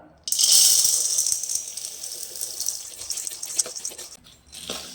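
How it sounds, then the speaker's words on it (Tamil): Roasted gram (chana) is dry-roasted in a pan, giving a loud rattling, hissing shake as the dry lentils tumble, strongest at first and then fading toward a softer rattle, with no talking. "அடுத்து வறுகடலையே வறுத்துக்கலாம்"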